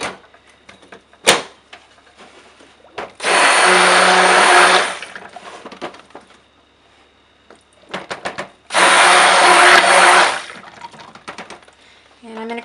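A handheld power mixer whirs through test soap batter in two loud bursts of about two seconds each. Quieter clinks and handling noises fill the gaps between them.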